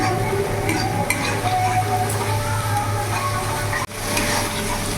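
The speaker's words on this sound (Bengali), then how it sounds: "কিছুক্ষণ ভাজা ভাজা করে নেব যাতে মশলার কাঁচা গন্ধটা না থাকে।" Spice paste with tomato frying in a pan, a dense close sizzle with scraping and clinking as it is stirred, briefly cut off near the end before resuming.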